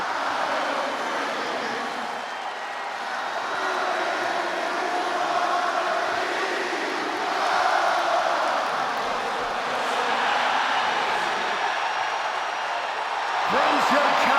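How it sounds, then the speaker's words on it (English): Sustained roar of a hometown arena crowd in Chicago giving CM Punk an ovation in WWE 2K26, a dense, steady wash of cheering that holds loud throughout with a brief swell near the end. "Just listen to this ovation for the Second City Saint."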